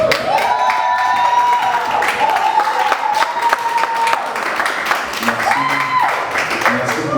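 Audience at a Christian gospel concert in London applauding and cheering, a steady wash of clapping and crowd noise filling the whole stretch, with music and a voice carrying over it.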